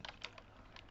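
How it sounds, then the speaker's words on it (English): Quiet typing on a computer keyboard, a few soft, light key clicks in quick irregular succession at close range. "And then I type."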